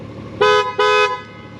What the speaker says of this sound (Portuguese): Outra cena que eu gosto desta moto é a buzina, parece a buzina de um carro mesmo